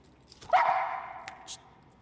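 A single sharp dog bark rings out close by, followed by a brief trailing whine, with quiet room noise around it.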